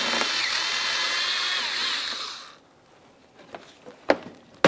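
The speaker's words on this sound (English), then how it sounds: "you can just remove this 7mm headed bolt and you'll have a lot more flexibility" Power tool running steadily while backing out a 7mm-headed bolt on a 2006–2012 Ford Fusion grille mounting panel, a continuous whirring buzz for about two and a half seconds before stopping, followed by faint clicks and handling noises.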